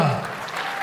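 Brief burst of audience applause at a live father-and-son rap performance, a dense, steady patter of many hands with a voice trailing off at the very start.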